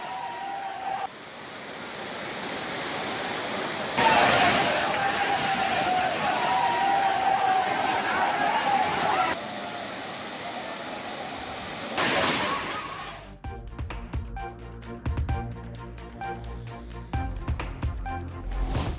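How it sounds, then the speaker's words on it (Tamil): Courtallam waterfalls in Tenkasi district gushing after continuous heavy rain, a loud steady roar of rushing water that fills the first thirteen seconds, then gives way to music. "தொடர் கனமழை காரணமாக குற்றாலம் அருவிகளில் அனைத்து அருவிகளிலும் நீர்வரத்து அதிகரித்த நிலையில்"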